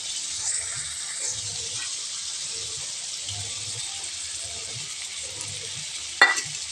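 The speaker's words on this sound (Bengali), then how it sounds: "কষানো হওয়ার পরে আমি এবার যে মশলাটা পেতেছিলাম ওই মশলাটা দিয়ে দেবো" A ground mustard and raw onion spice paste sizzling in a pan for prawn curry, with a steady hiss under soft, repeated scraping stirs and one sharp clink near the end.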